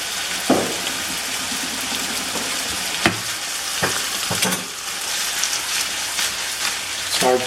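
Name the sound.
sauteing in a pan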